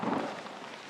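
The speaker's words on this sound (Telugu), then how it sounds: "వర్షం పడుతుందబ్బా." Steady rain hiss in a horror video game, a broad wash of falling drops that is loudest at the start and eases slightly, with no talk over it.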